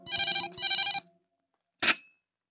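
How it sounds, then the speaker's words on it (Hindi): A telephone bell rings twice in quick long bursts, loud and close, followed after a pause by a short sharp click as the handset is picked up. "मिनिस्टर साहब का फोन है"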